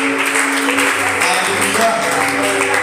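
Church congregation applauding during a French-language service, steady dense clapping mixed with cheering voices and a sustained tonal hum underneath throughout.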